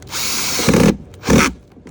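A power drill drives screws into a panel on a Nissan Xterra retrofit build, two close whirring bursts, the second shorter, with brief pauses between.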